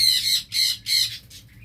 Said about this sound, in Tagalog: Huwag mong kalimutan tingnan yung bagong ibon din ha.